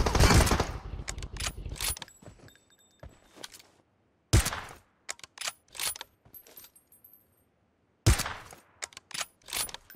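M24 sniper rifle fire in PUBG Mobile, loud cracking reports with metallic bolt-action clatter between them, spaced across the clip with near-silent gaps.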